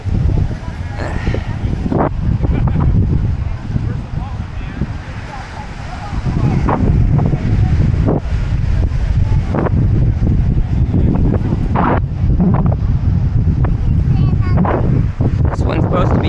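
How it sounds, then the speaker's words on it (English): Cold, strong wind at Baker Beach buffets the microphone on hard-packed sand, a loud continuous roar with gusty surges and rumbling low end throughout. "We got all, it's cold and windy out here"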